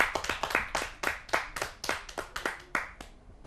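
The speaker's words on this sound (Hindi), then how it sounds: "आइए जोरदार तालियों से उनका स्वागत करते हैं" A Hindi kavi sammelan audience clapping to welcome a poet from Ghaziabad, a small group whose sharp, distinct claps come in an uneven rhythm, close and clear with no talk.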